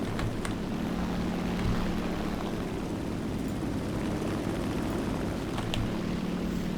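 Steady, droning propeller engine of a Yak-3U fighter plane in War Thunder, holding an even roar throughout with faint clicks on top and no talk.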